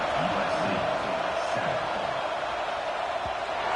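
A stadium crowd roaring at kickoff in the college football video game NCAA 25, a dense, steady wash of cheering that stays loud and constant throughout, with a commentator's voice faintly mixed in.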